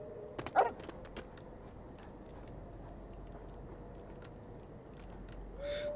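A dog barks in the LEGO Harry Potter video game, a couple of quick, fairly close yips near the start, then quiet game ambience and a brief tone near the end.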